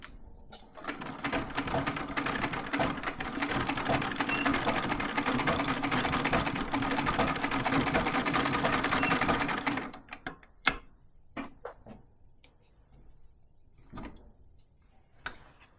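A treadle sewing machine stitches a quilted table topper in a steady, loud run of rapid mechanical clatter lasting about nine seconds, followed by scattered knocks and clicks as the fabric is handled.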